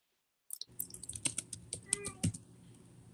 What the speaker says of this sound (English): your typing's magnificent